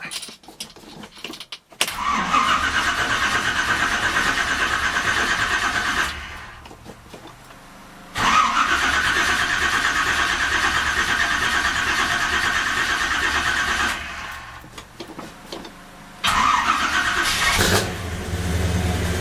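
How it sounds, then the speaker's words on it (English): An old truck engine cranks and catches, then settles into a rough idle. It cuts out and restarts a couple of times, heard close and loud with no talking. "I'm gonna take this old truck because I ain't drove it in a while, and it probably needs a little running."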